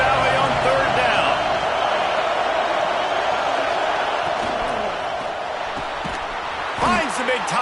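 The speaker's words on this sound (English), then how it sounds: "Here comes the noise from this big crowd in Happy Valley on third down." A big stadium crowd in Happy Valley roars on third down at a college football game, a loud sustained wall of noise that dips slightly near the end before a sharp thump.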